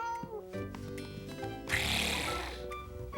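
A voice imitates a cat, giving a single drawn-out meow up close over light background music.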